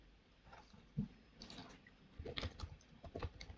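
Typing on a computer keyboard to enter a command at the Windows command prompt, a short burst of close, soft key clicks in uneven clusters with no talking.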